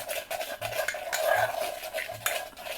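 A spoon stirs thick starch paste in a pot, made for starching satin fabric, with repeated scraping and clinking strokes against the metal in an irregular rhythm, close and moderately loud, with no talking.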